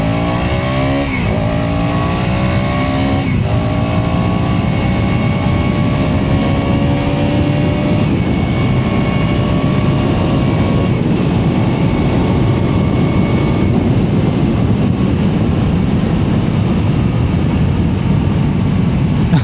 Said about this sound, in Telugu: చాలా స్మూత్గా ఉంది ఇప్పుడు ఇంజన్ అయితే.